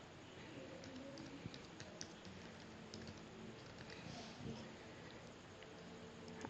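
Soft, steady typing on a computer keyboard, quick light key taps running continuously at low volume with faint room noise behind.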